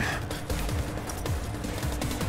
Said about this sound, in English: Now that was a gunshot.